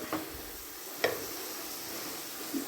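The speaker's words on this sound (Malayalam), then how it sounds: "2 സബോള അരിഞ്ഞതും 4 പച്ചമുളകും വഴറ്റാൻ ആവശ്യമായിട്ടുള്ള കുറച്ച് ഉപ്പ്" Sliced onions and green chilies with a little salt sauté in coconut oil, giving a soft, steady sizzle with a few light stirring clicks near the start, middle and end.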